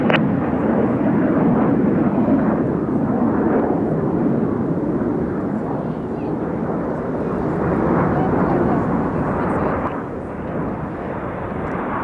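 Red Arrows display team jets roar past at an air display, a loud continuous broadband rumble that swells and eases over several seconds, with a commentator talking over it.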